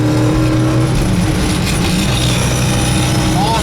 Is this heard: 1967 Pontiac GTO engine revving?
yes